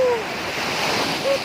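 Sea waves washing onto a beach during a power outage, a loud, continuous surf roar buffeted by wind noise on the microphone, with a brief faint voice-like tone at the start and end.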